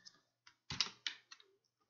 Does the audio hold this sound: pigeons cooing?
no